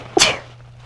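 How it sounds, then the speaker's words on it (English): A single sharp sneeze from a person bursts out close and loud, quick and breathy, then fades into quiet room tone. "I have to sneeze."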